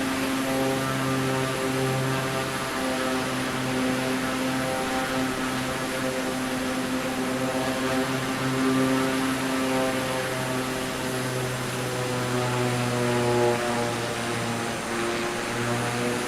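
Steady propeller aircraft engine drone in Microsoft Flight Simulator 2024 during a flyby, a loud continuous hum with stable harmonic tones that waver slightly in pitch throughout.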